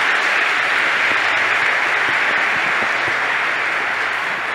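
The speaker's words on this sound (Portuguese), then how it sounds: "A Ele uma salva de palmas." Steady, dense applause from a church congregation, a loud even wash of clapping that holds for several seconds without a break.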